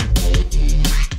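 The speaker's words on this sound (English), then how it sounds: "So these were the old drums." A short burst of an old drum-and-bass drum pattern: a few punchy hits over a deep, droning bass tone, loud and close with no talking.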